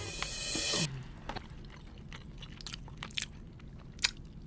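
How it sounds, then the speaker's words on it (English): Close, crunchy bites and chewing on a fast food chicken wing during an ASMR-style cheat day taste test: a loud crisp crunch opens, then scattered wet chewing clicks and crackles follow. "You make a lot of noises when you chew."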